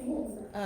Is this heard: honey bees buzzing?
no